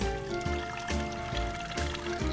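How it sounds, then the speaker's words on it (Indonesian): Ordinary tap water poured into a metal ISA steaming pan while making kue lupis, giving a steady splashing, trickling flow with a few surges, close by and moderately loud, with no voices. "Lalu kita isikan air"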